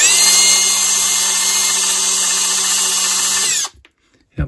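A power drill drilling into a Yale mortise lock whines steadily at high pitch for several seconds, then cuts off abruptly, followed by a brief quiet and a small knock.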